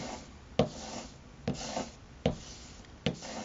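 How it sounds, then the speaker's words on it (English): A hand plane blade is drawn along a strop loaded with honing compound, giving soft rubbing strokes with a sharp scuff at the start of each pass, about four strokes, close and quiet. "I'm trying to keep the blade flat on the strop."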